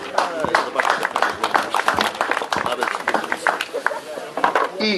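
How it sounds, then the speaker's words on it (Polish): Spectators at an independence-day mountain bike marathon clap for the competitors in a quick, scattered patter, heard close and under nearly continuous talk. "Brawa dla zawodników"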